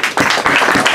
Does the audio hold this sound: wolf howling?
no